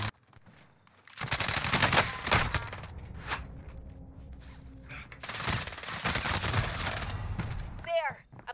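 MP7 submachine gun fire in a video game: dense, loud automatic bursts crackle up close in two long strings separated by a quieter gap, with a brief electronic chirp at the very end.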